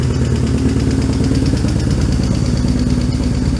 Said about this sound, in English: So now the bike has been idling for a little while and the bike was hot.